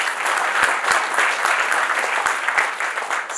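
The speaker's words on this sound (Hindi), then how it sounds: "एक बार जोरदार तालियां इस कंपनी की।" An audience at a water-machine product demonstration claps loudly and steadily, a close, sustained burst of applause with a few sharper thumps and no talk over it.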